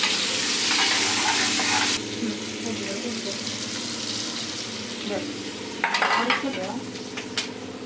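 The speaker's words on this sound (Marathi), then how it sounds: "तेल, जिरा त्याच्यानंतर आता मी त्याच्यात टाकतोय कांदे" Onions drop into hot oil with cumin for an elephant foot yam dish, a loud bright hiss at first that settles into a steady sizzle, with stirring scrapes and clinks of a spatula close by.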